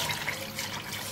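Water poured into liquid ingredients for a cornmeal pudding mix: a brief, soft, steady trickle and splash heard close by with no talking.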